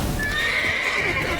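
A horse in The Witcher 3 gives a clear, loud whinny lasting about a second, its tone wavering high and bright, with a hint of hooves beneath.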